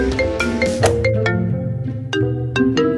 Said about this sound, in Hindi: ओह, एलिस का फोन बज रहा है।